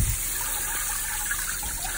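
Tap water runs steadily into a bowl of mung beans being rinsed, a constant close-up splashing rush with no pauses.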